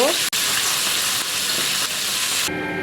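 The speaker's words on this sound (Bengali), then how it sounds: "মাছগুলো দিয়ে দিয়েছি, ভালো করে ভেজে নিব।" Fish head pieces frying in olive oil in an iron wok, a loud continuous sizzle close up with brief clatters of stirring, then the hiss eases slightly near the end.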